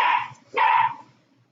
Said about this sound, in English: When my dog bark, it scares me